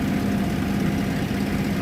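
A 1,600 horsepower aircraft engine drones steadily and loudly at close range, a continuous low rumbling roar with no voices over it.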